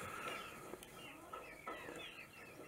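Chickens clucking softly and continuously as they are let into the coop at night, several birds murmuring together at low level with occasional sharper clucks, no talk.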